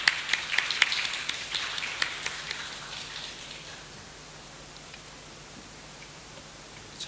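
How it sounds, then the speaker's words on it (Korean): A church congregation claps for the choir after a Sunday worship song, a burst of scattered hand claps that thins and fades out within a few seconds, leaving quiet room tone. "또 격려의 의미로 우리 함께 박수하시겠습니다"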